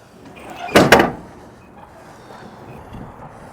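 The spring-loaded door on a 20-foot Morgan Proscape body of a 2024 Isuzu NPR HD gas truck latches shut with two quick, loud metallic clacks close together, followed by quiet.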